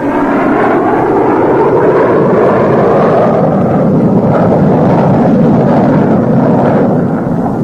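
Military jet aircraft roar overhead during an attack run in a joint Iranian–American naval exercise, a loud, sustained broadband rush with no break and no voices.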